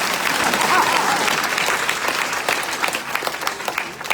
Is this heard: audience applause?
yes